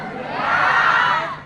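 A crowd at a Sundanese Islamic sermon lets out a loud, brief collective cheer that swells and fades over about a second and a half, with shouting voices blended together.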